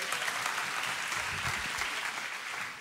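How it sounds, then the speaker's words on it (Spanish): Live audience applause for a performer on stage, a dense, even wash of many hands clapping that holds steady for a few seconds before tapering at the end, with no voices over it. "Un aplauso para Cristian."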